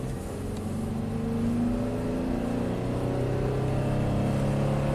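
Honda car engine, at about 100k miles with a suspected transmission fault, revving up toward 5,000 RPM, a steady rising whine and hum heard from inside, moderately loud with no talk.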